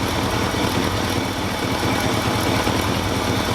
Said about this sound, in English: just turn it on and let it idle